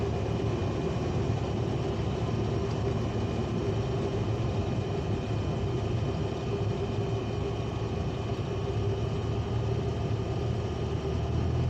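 Small single-engine training airplane on a short-field landing approach, its engine drone steady and loud throughout, with dense broadband cockpit noise and no voices.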